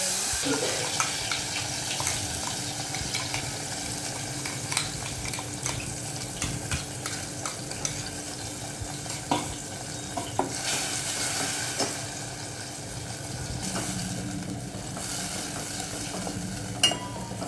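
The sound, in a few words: masala paste stirred and sautéed in oil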